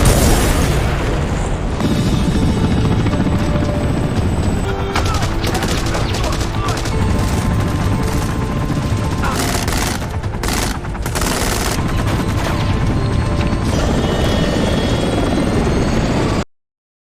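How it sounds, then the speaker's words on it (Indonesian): Loud, continuous helicopter rotor noise as a helicopter arrives at a ship dominates, with booming impacts and bursts like gunfire mixed in, ending abruptly. "Selang beberapa menit kemudian, helikopter sampai."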